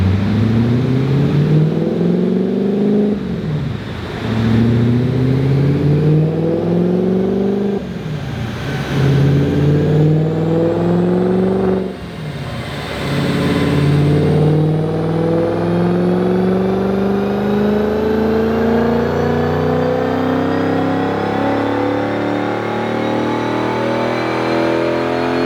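Audi S4 engine on a dyno in a fourth-gear pull, revving loud and close with rising pitch through three short shifts or lifts, then one long sustained climb toward the end.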